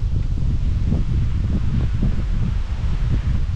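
Strong wind blows on an island, a steady loud roar with gusty low rumbles buffeting the microphone and faint rustling throughout.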